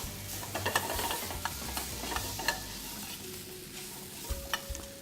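Pork and shiitake mushrooms stir-fried in a hot pan, a soft steady sizzle broken by repeated scraping and clattering stirs of the utensil against the pan, fairly quiet and close.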